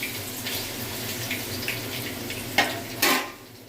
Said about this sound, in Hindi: आराम से ऑयल में फिश डाल दीजिए।